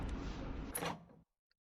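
A door opens in Silent Hill 3, heard as a loud, close scraping, rumbling creak lasting about a second that cuts off abruptly, followed by near silence with a tiny faint tick.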